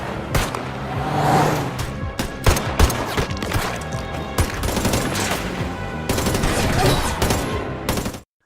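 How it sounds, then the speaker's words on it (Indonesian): Bursts of rapid gunfire crack loudly in quick succession during a Korean spy-war film scene, mixed with engine-like rumbling and scattered impacts. "dari kejauhan terlihat Im datang sambil melepaskan tembakan ke arah Joko"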